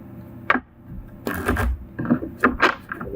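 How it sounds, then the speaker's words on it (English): Tarot cards shuffled up close in a few crisp riffling bursts, with short pauses and soft handling sounds between them. "Let me just shuffle here."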